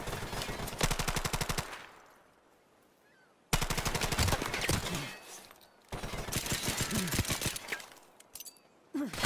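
Rapid automatic gunfire in a cage-match shooter game comes in three long, loud bursts of dense repeated shots, separated by a quieter gap with faint background noise.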